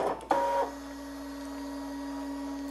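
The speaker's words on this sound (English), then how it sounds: "now you can see the machine is cutting out the appliques" A die cutting machine cutting fabric appliqués gives a brief mechanical clunk and whir, then settles into a quiet, steady motor hum.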